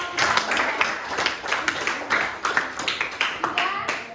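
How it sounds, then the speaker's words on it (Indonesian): Scattered clapping from a classroom audience, a string of sharp hand claps with uneven rhythm over about four seconds, with voices talking and calling out over it. "Tepuk tangan untuk"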